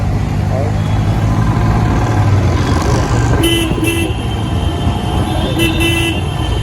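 Road traffic heard from a motorbike, a loud steady engine and road rumble with two short double honks of car horns, and a voice is heard briefly.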